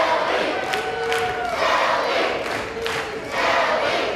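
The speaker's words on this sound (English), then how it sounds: "The crowd is chanting Selby, the Kenova Crippler." Wrestling crowd at an NWA Appalachia show at the CK Wonderdome chanting a wrestler's name, a dense steady roar of many voices with rising shouted calls repeating in waves, loud and continuous.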